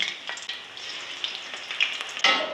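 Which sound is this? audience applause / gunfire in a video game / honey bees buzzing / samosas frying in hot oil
samosas frying in hot oil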